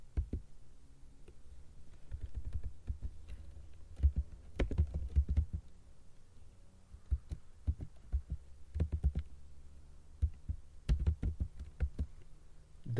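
Someone types on a computer keyboard while entering data into an office database, producing faint, irregular clusters of soft key clicks with pauses between them.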